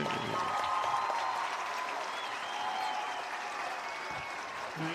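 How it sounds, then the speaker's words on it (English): A large outdoor festival crowd at a band performance applauds and cheers in a steady, dense wash that holds for several seconds before easing slightly. "Let's give all these energetic students, instructors, and musicians another round of applause."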